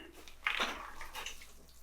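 Water poured onto plants inside a warm greenhouse, starting with a brief close splashing gush and then settling into a softer, steady trickle.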